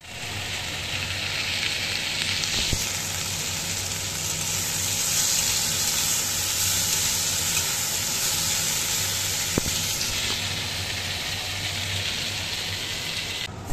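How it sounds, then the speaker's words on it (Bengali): Oil and butter heat in a pressure cooker with a steady, close, crackling sizzle that holds continuously throughout, broken only by a couple of faint taps. "প্রেসার কুকারে তেল আর বাটারটা, অল্প তেল আর অল্প বাটার দিয়ে গরম করে নিলাম"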